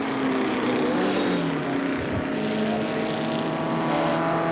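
Formula Vee race cars from 1979 racing at Amaroo Park, with a continuous loud buzzing engine drone that holds steady throughout as the cars run close together, with no talk over it.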